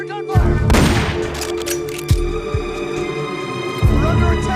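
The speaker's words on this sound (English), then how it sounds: "I heard gunfire!" Heavy gunfire in the video game Metal Gear Solid: Peace Walker cracks out in bursts, with a loud opening volley and a few separate deep booming shots echoing afterward, no talking.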